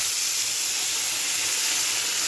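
Fish pieces sizzle steadily in hot oil, a dense close hiss with no break that fills the whole moment.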